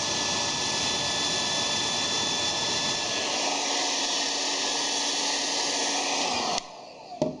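VGR V 439 foldable hair dryer blowing hot air with a loud, steady whirring roar that runs unbroken for several seconds, then cuts off with a brief click and rattle.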